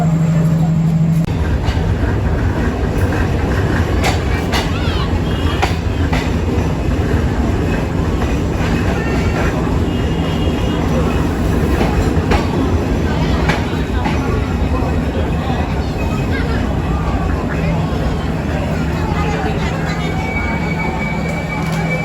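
Sundarban Express passenger train departing a railway station in Bangladesh, a steady loud rumble of rolling wagons and wheels on rails throughout, with a faint voice in the background.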